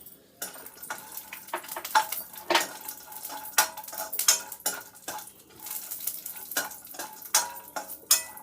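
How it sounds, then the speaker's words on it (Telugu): Dry fruits fry in ghee in a pan for a double ka meetha dessert, with steady stirring, spoon scrapes and clinks against the metal over a soft sizzle, close and alone without talk. "ఇవి డ్రై ఫ్రూట్స్ మనం ఫ్రై చేసుకుందాం"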